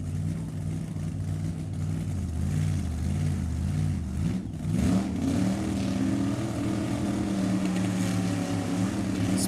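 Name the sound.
Chevy Nova twin turbo big block drag car engine revving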